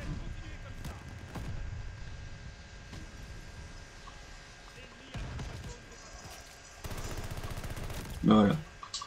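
Call of Duty Vanguard gameplay with bursts of automatic gunfire and scattered single shots, fairly faint and mixed with game ambience, including a louder rattling burst near the end and a voice speaking at times.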